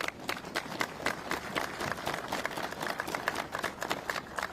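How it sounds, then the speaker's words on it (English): Crowd applause at the ribbon cutting for the Milwaukee County Zoo's new penguin habitat, a steady, moderately loud wash of many hands clapping throughout, sounding somewhat distant and outdoors. "I would love to lead another round of applause and celebrate everyone who made this exhibit possible."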